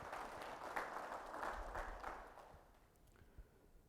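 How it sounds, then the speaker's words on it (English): An audience at a CEOs' conclave in Bangalore applauds, a moderate wash of clapping that holds for about two seconds and then fades out, heard from a little distance. "So please clap for the new generation"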